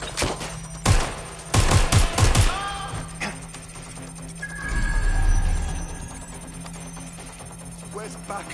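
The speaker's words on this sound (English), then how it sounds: "Shots fired!" Gunfire in a video game: a rapid cluster of loud, close shots cracks out near the start, then fades into a low rumble and electronic tones.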